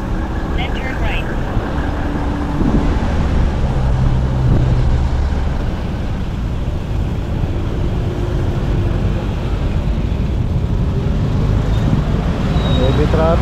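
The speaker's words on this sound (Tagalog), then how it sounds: "Mas 4 na kasi. Ayan. May heavy traffic tayo." Steady broadband roadway roar of heavy afternoon traffic, heard while riding an EV Supreme e-bike, continuous and fairly loud throughout with occasional passing vehicles, while a voice talks over it.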